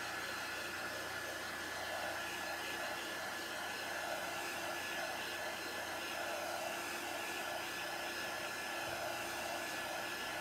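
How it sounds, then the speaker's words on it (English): A handheld heat tool or hair dryer blowing steadily while drying chalk paste on a craft project, a constant close whooshing hum with no break and no talk. "you can also make it dry faster with a hair dryer or a heat tool like this one"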